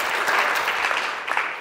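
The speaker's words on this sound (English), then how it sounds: "Huge round of applause." Audience applause at a storytelling and presentation skills workshop, a steady dense wash of clapping from a room of people, fairly close and continuous without a break for the whole stretch.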